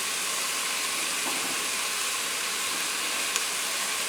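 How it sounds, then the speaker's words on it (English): Smoked ham with the bone sweating in a pot on the stove, a steady, even sizzle and hiss, quiet and constant with no talking. "So we sweat this up for a couple of minutes"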